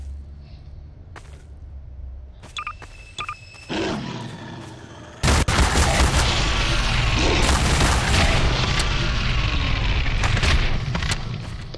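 Normal-bullet gunfire in Garry's Mod single-player, starting with sparse scattered shots and then swelling into a loud, dense, continuous barrage that runs to the end.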